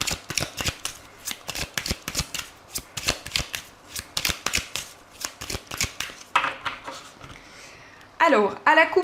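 Oracle cards being shuffled in a French card-reading session: a steady run of crisp, rapid riffling bursts, close and fairly loud, followed near the end by someone speaking briefly.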